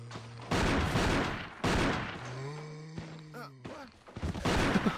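Gunfire in the video game Resident Evil 1 Remake, several loud, bursting shots roughly a second apart, mixed with tonal game sounds and rising effects between them.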